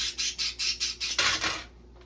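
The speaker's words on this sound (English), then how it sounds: "the birds are excited. The birds want to say hi." Pet birds give a run of short, loud chirps and squawks in quick repeated bursts, close by, ending in a brief noisy squawk before fading.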